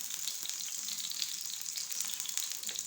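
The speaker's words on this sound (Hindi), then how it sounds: "इस तरह से हमने बिल्कुल हल्की आंच पे इनको फ्राई करना है, तेज़ आंच पे हम इनको फ्राई नहीं करेंगे।" Vegetable chapli kababs fry gently over low heat in a pan, a steady close hiss of sizzling oil with fine crackles and no voices.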